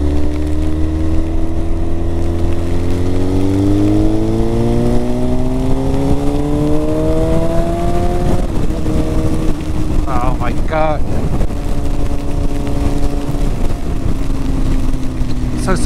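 A motorcycle engine revs on a ride, with a steady loud drone whose pitch climbs gradually as the throttle opens, then levels off under strong wind noise.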